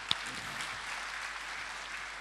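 An audience claps at a Delhi mushaira where Rahat Indori is reciting. The applause is a soft, steady patter of many hands heard from a distance, with one sharp clap near the start and no talking.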